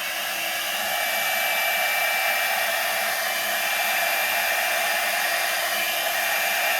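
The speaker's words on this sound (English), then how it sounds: "I'm going to use my little Revlon tool now to blow that out." A small Revlon hair dryer blows on wet paint with a loud, steady, close airy roar that runs unbroken from start to finish.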